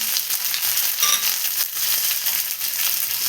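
Curry leaves and chopped shallots hitting hot oil for a Kerala-style kadachakka curry, a bright, steady crackling sizzle with a few sharper pops, close and continuous with no talking.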